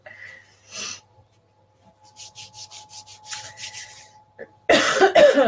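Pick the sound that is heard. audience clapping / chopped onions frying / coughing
coughing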